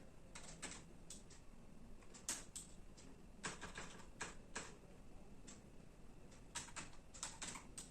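Typing on a computer keyboard, with irregular bursts of close, light key clicks that carry on through the whole stretch under faint background hiss, and no voices.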